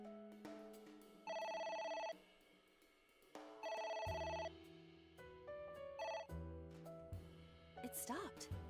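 Bursts of a shrill electronic telephone ring repeat twice in the video game AI: The Somnium Files, then give way to game music and sound effects, with a short voice near the end.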